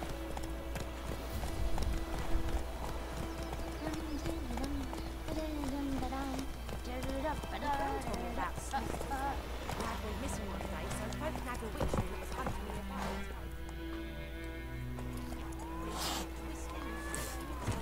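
Roach the horse gallops across White Orchard in The Witcher 3, a continuous rhythmic clip-clop of hooves running for a long stretch beneath ambient music and game sounds, with voices speaking over it.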